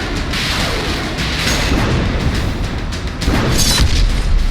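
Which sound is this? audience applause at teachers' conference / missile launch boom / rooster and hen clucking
missile launch boom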